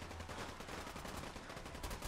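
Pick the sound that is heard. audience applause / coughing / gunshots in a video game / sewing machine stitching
gunshots in a video game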